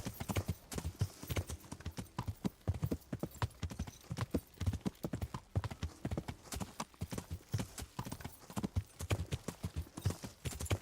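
Horse hooves clip-clop in a steady, fast rhythmic gait in the video game Kingdom Come: Deliverance, close and continuous throughout, with faint ambient sound underneath.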